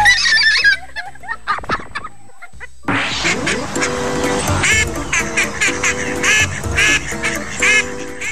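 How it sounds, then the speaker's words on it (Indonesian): A duck quacks in rapid, chattering bursts that sound almost like laughter, repeating over and over at close range. "Entah apa yang dilihat bebek yang satu ini, tapi cara ia tertawa adalah hal yang paling menarik perhatian."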